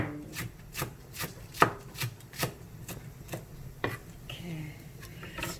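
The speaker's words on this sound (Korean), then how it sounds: "편하게 이렇게 해서 접어서 썰어요" A knife chops folded green onions steadily on a cutting board, about two cuts per second, close and crisp, with low voices faintly in the background.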